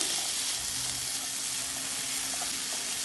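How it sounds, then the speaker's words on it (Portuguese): Peach pieces, cut in quarters, sauté in a pan with a steady, close sizzle and frying hiss that runs unbroken throughout, no voices over it. "Agora vamos refogar o pêssego."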